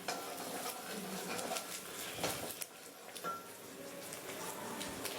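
Cumin, coriander and dried red chilies sizzle softly in a pan while being stirred, with faint scraping and clinks of a spoon against the cookware under quiet talk.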